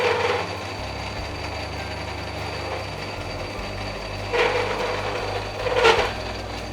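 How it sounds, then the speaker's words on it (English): A lathe cuts a classic Mini wheel nut with slight chatter from long tool stick-out: a steady, close machine hum with harmonic whine, swelling into two rougher, louder cutting bursts toward the end. "So that little bit of chatter we're getting there is just because we've got a good bit of stick out here in the lathe"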